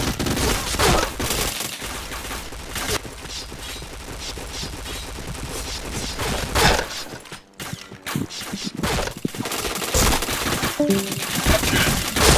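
Rapid bursts of automatic gunfire from a shooter video game, dense and loud through most of the stretch with a brief lull midway, then heavy firing again.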